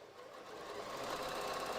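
A sewing machine stitches with a rapid, steady whir that rises slightly and holds, close and fairly quiet.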